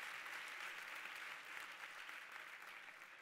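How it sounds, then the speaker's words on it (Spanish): Steady audience applause fills a hall at a science communication contest semifinal in Barcelona, a dense even patter of many hands clapping throughout without pause. "un aplauso para ella"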